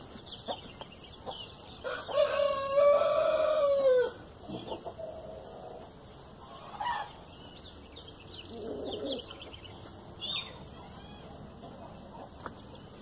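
Chickens in a coop cluck and squawk near and loud in a short burst, then settle into scattered softer clucks and chirps over a quiet background.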